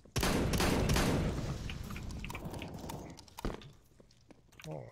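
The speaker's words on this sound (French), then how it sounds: "Meilleure arme, le fusil à pompe." Heavy shotgun blast in the video game CS:GO, loud and boomy up front, followed by lingering echoing tail, scattered clatter, footsteps and a voice faintly talking beneath.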